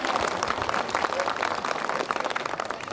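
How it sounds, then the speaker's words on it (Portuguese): An audience applauds Rogério Menezes at a festival in Imaculada, Paraíba, with dense, steady clapping filling all three seconds at even loudness. "Merece os aplausos de vocês"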